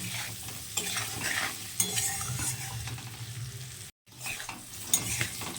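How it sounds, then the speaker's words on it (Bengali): Potatoes fry in oil with salt and turmeric while being stirred, giving a steady close sizzle with repeated scraping stir strokes and a brief break near the end. "নুন হলুদ দিয়ে আলু খুব ভালো করে নাড়তে থাকবো"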